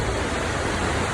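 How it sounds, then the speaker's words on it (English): A groomed waterfall with foam on the water roars as a steady, dense rush of falling water, loud and close, with no voices. "This is not the same waterfall experience."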